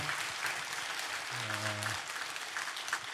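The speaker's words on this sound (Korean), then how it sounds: "우리 박수로서 환영하도록 하겠습니다." A church congregation applauds in welcome during a Sunday service, steady clapping throughout with a voice briefly speaking over a low sustained tone midway.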